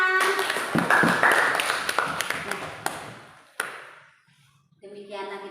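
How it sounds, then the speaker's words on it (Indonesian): A classroom bursts into brief, scattered clapping that quickly thins out and fades, followed by a moment of quiet and then faint room noise. "Ya, tepuk tangan."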